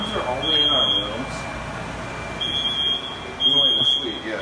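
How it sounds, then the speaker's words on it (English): A smoke alarm in a college dorm suite sounds in repeated bursts of piercing high beeps over room noise and voices nearby. "Yeah, it's only going off in this suite."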